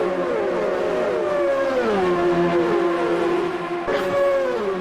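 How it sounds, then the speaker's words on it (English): Race car engines heard from outside in the video game Automobilista 2, several loud, droning engine notes rising and falling as cars pass, with a brief burst near the end. "Cars sound good from the outside as well"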